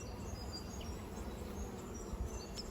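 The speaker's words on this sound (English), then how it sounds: "Lots and lots of bees." Honey bees buzzing around an open hive during a beekeeper's swarm-prevention inspection, a faint, steady, dense hum of many insects with no voices.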